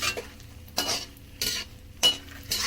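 Gond for laddoo fried in a pan, with bursts of sizzling as it is stirred in four or five regular strokes over a quiet background.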